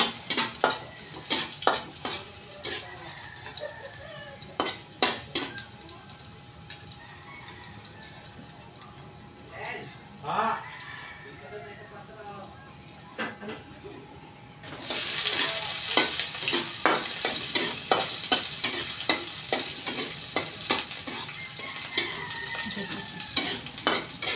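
Oil sizzles steadily in a pan while a utensil scrapes and clinks against it, the frying growing louder partway through; no talking.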